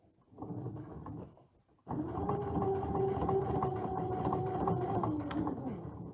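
Close and steady, a sewing machine hums through a continuous run of stitching veins on a dimensional appliqué, after a brief softer start and a short pause, then winds down at the end.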